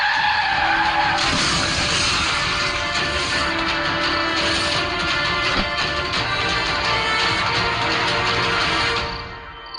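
Car skidding hard on a road, a loud, sustained tire screech lasting several seconds before tapering off at the end, with no talk over it.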